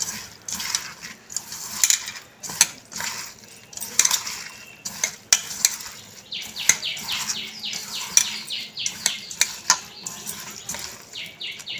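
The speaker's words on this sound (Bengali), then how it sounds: "ভালো করে মাখবো হাত দিয়ে চটকে চটকে, যাতে পেঁয়াজ টমেটো সব যেন হাতে মাখানোতেই নরম হয়ে যায়।" Onion, tomato and green chilli mashed by hand in a bowl, a run of close, irregular wet squishes and clinks against the dish, with birds chirping faintly in the background and no talk.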